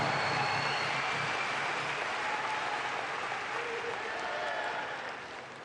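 Audience applause at a political speech in India, a large crowd clapping loudly and steadily throughout before easing slightly at the end.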